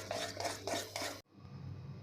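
Malpua batter being beaten briskly in a bowl for a Gujarati Holi sweet: a quick run of rhythmic scraping and clinking strokes for about a second, then it stops and only a low room hum remains.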